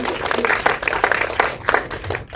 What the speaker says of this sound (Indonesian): Mbak Lola Amaria, kita kasih tepuk tangan dong teman-teman media.